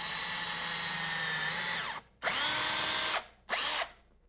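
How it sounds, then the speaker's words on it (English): Power drill pre-drilling pilot holes in wooden flooring molding, a loud steady whir that spins down and stops, then two shorter bursts follow after brief pauses, close and alone. "So we'll take our drill,"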